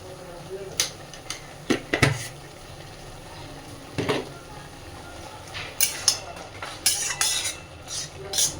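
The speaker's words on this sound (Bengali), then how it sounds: "খুব সুন্দর করে মিশিয়ে নেবো সব কিছু।" Red spinach is stirred in a cooking pan, a spoon clinking and scraping against the metal in irregular bursts of knocks over a quiet background.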